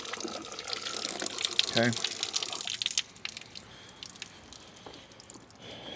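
Water from a hose splashes across a car during a light rinse, a steady spraying hiss that drops off halfway through, with a brief spoken word over it.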